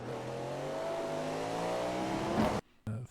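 Cadillac GTP prototype race car in iRacing, taking a corner at Spa with a loud, steady engine drone and rising harmonics, then a sudden cut to near silence before the engine note returns briefly.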